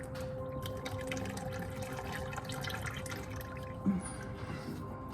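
Engine oil drains from a car's oil pan into a catch pan, a steady liquid trickle and drip running throughout under constant background noise, with one brief louder splash near the end.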